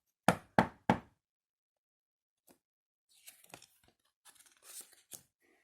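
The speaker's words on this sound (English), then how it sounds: "there was a loud knock at his front door." Three sharp, loud knocks on a door sound in quick succession, followed by quieter scattered rustling and small handling noises.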